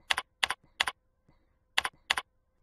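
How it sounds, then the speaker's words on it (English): Keystrokes on a computer keyboard, typed in short clusters of two or three crisp taps with brief pauses between bursts, close and clear with no talking. "Then type FD space 50"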